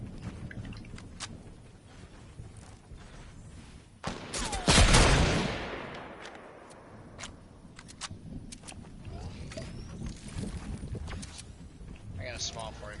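Gunfire in a Fortnite match: a loud burst of shots rings out about four seconds in and dies away over the next second or two, with other scattered sharp cracks before and after, and voices talking throughout.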